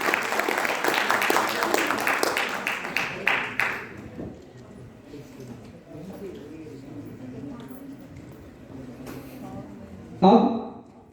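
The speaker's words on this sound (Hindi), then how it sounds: "एक बार जोरदार तालियां जोर से पंकज टेलर के लिए" An audience applauds blind artist Pankaj Taylor at a cultural function, a burst of dense clapping for about four seconds that fades into quieter room sound, then a brief louder noise near the end.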